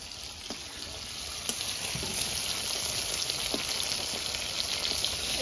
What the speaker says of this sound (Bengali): এদিকে তো মাছ ভাজা হচ্ছে